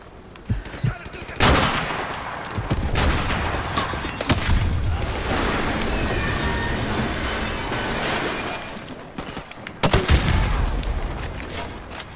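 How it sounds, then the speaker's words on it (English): Gunfire and a grenade blast in Call of Duty: Modern Warfare Remastered, with loud, close bursts of rapid shooting, a heavy boom near the start and another near the end, and dense sustained firing between them. "Oh shit, that grenade's gonna kill me."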